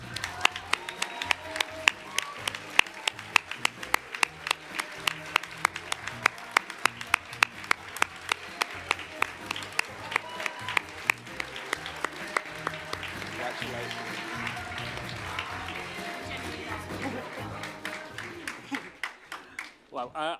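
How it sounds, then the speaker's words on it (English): Audience applause at a volunteering awards ceremony. A large crowd claps steadily for about twenty seconds, with sharp individual claps standing out over a dense wash of clapping that thins toward the end. "give a massive round of applause to my friend"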